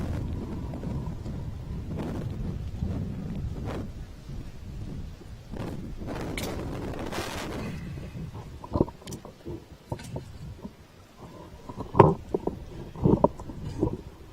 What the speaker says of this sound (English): Blustery here in southwest London today.